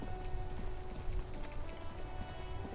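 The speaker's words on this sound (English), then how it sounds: "All around you, rain falls on the great city of Revachol. Rain drips from the eaves and floods the gutters" Steady rain pours over a city street in Disco Elysium, a dense even hiss of drops with dripping and running water, continuous and close with no talking.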